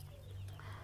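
Hen clucking in a small backyard pen for brooding hens, a low steady murmur of clucks carrying on continuously and fairly quiet, with no talking.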